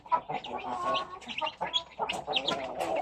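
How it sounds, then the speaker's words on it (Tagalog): Several backyard chickens cluck and squawk busily and close by at feeding time, a continuous chattering flock with overlapping calls. "So, ngayon, magpapatuka na tayo ng ating mga manok."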